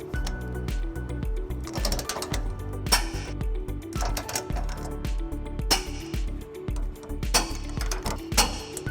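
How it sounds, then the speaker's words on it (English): Torque wrench tightening trailer hitch bolts with a 21mm socket on a 2018 Chevrolet Colorado, rapid ratcheting clicks in uneven bursts close by, with metallic clinks between pulls. "we're going to go ahead and torque them following the manufacturer's instructions"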